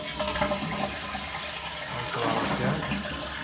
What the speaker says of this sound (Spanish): Lo primero que tenemos que hacer es vaciar el tanque de agua completamente.